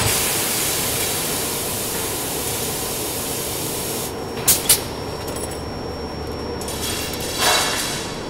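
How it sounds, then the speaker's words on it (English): Hydraulic mandrel puller drawing a steel mandrel out of a cured golf shaft: a steady loud hiss and rush of machinery, broken by a couple of sharp clanks and a later surge. "we have to remove the steel mandrel that we put inside using this hydraulic mandrel puller"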